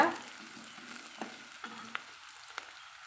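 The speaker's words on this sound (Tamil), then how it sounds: "இப்போ நம்ம வெங்காயத்தை வதக்கி விட்டுக்கலாங்க" Onions sautéed in a pan for bitter gourd poriyal, a faint steady sizzle with a few light scraping stirs and small pops spaced across a few seconds, quiet and close with no voices.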